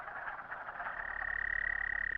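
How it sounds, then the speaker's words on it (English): Wood frogs chorusing in spring, a dense overlapping mass of low clucking croaks that settles into a steady pulsing drone, moderately loud and continuous with no voices. "Early in the spring, wood frogs chorus and lay masses of eggs."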